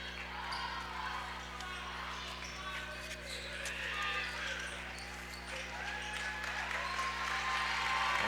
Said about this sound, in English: you can hear Eagle Nation clapping, cheering their Eagles on